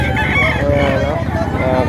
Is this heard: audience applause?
no